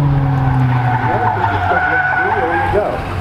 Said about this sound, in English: tires are having trouble sticking to the pavement